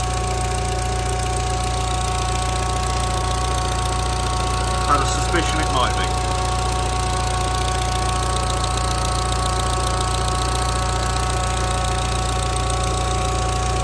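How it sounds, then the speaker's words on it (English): An Audi TT suffering vacuum loss and overboost idles at about 1100 RPM, a steady, even mechanical hum and drone that runs throughout, with someone speaking briefly over it near the middle. "So we've just started the car, it's idling"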